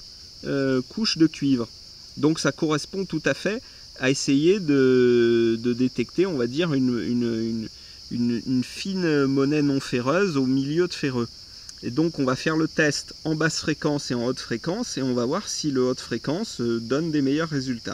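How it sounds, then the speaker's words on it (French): Cicadas in southeastern France in July keep up a loud, steady, high-pitched buzz throughout, running continuously beneath a person speaking French close by. "Alors par avance, désolé pour le bruit des cigales"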